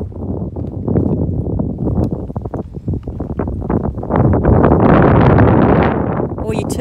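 Wind buffeting at night in a cemetery in Kapunda, Australia, with irregular gusty rumbles that swell louder toward the end, mixed with rustling and footsteps.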